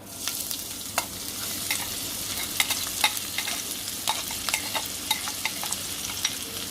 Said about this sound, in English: Basically put some seasoning in this and go put it in the oil